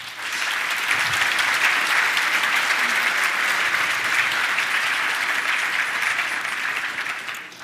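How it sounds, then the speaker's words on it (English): A large conference audience applauding after a keynote talk at ElixirConf: loud, sustained clapping that swells in quickly, holds steady for several seconds, then tapers off at the end. "Let's give José another big round of applause."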